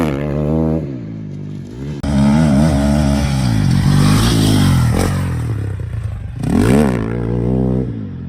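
A motocross dirt bike engine revs and throttles through a jump, loud and close, its pitch rising and falling as the rider rolls on and off the gas, with a brief rattling clatter mid-way.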